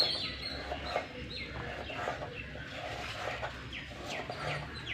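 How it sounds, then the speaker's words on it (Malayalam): A flock of sparrows chirps and squabbles in quick, overlapping bursts, faint and continuous, as if heard from a short distance. "കുരുവികളുടെ സൗണ്ട് കേൾക്കണ്ട. ദിവസം ഈ നേരമേ തല്ലുകൊടുക്കും കുരുവികൾ."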